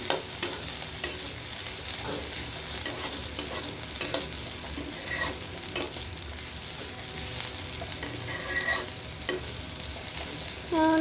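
Food frying in a pan sizzles steadily while a utensil stirs and scrapes in repeated clanks and sweeps, close and fairly loud, with no talking.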